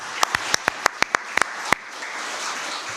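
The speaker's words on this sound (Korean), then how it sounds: "拍手を持って互いに祝福しましょう" At a Sunday church worship service, the congregation claps: about ten sharp, separate hand claps in quick, uneven succession, then they stop and leave a quiet room tone.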